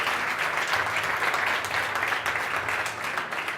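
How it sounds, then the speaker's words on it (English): Audience applause for Hiroshi Fujiwara at a street-culture talk at Sole DXB, a steady dense wash of clapping from a crowd that holds evenly throughout and eases slightly near the end. "everyone give a big round of applause to Hiroshi"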